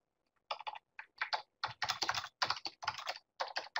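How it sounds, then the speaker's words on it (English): Comment being typed on a computer keyboard, with quick clusters of close, crisp key clicks in irregular bursts and short pauses, no talking. "We can type in a comment"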